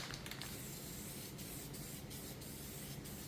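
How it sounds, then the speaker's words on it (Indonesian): Spray gun applying grey primer or epoxy over sanded filler on a motorcycle's ABS body panel, a steady close hiss interrupted by several short bursts and pauses, no talk. "ini untuk bagian yang kita amplas itu kita semprot primer grey atau epoksi lagi sampai tertutup bagian dempulnya ini"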